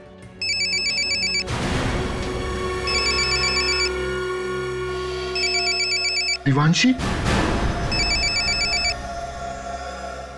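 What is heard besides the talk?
telephone ringing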